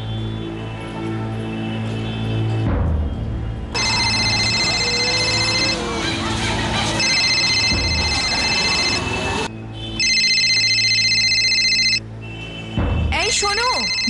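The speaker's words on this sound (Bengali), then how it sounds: "এই শোনো, বাবা ফোন করেছেন।" A telephone rings loud and close with an incoming call, its ringtone repeating in several bursts separated by short gaps. Voices are heard around it.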